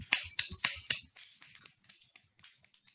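Several people clap three fingers against their palms, producing a few strong, crisp slaps in quick rhythm, followed by a trail of lighter, scattered pats dying down.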